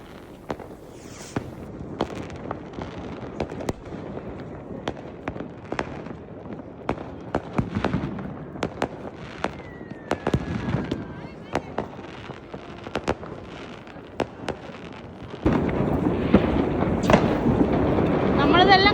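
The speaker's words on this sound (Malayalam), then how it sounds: "വെടിക്കെട്ട് തീരുന്നില്ല." New Year fireworks in Germany burst in a long series of sharp bangs and crackles, some near and loud, others distant, with a dense barrage near the end and people talking in between.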